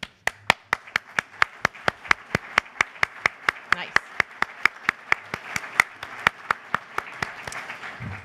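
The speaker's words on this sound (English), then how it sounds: "why don't you stand up and let's give you a round of applause" An audience at a Homeland Security event claps in sharp, evenly spaced beats, steady and fairly loud over a low background murmur.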